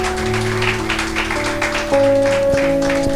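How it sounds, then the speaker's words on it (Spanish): Church congregation clapping in a lively burst of applause, steady and dense throughout, mixed with sustained music tones from instruments. "Dale ese aplauso a Jesús."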